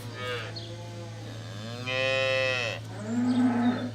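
Cattle mooing on a farm where a cow and calf were left behind, several drawn-out lowing calls in sequence over a steady low hum, fairly close and clear with no talking.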